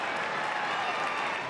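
Football crowd at an AFL match between Carlton and Fremantle, applauding and cheering a goal, a steady broad roar of clapping that holds at an even level throughout with no gaps.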